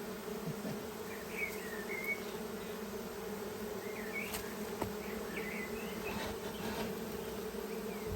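Steady buzzing of many honey bees close by, a continuous insect drone with occasional louder passes of individual bees.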